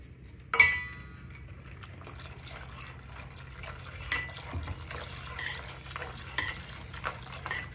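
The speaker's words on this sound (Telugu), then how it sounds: "ఇలా ఉండలు కట్టకుండా తిప్పుకోవాలండి కొద్దిగా చిక్కబడే వరకు." Spoon stirring custard powder mixed in cold milk into a pot of milk on the stove, a sharp clink at the start, then soft, steady scraping and swirling near and fairly quiet, with no talking.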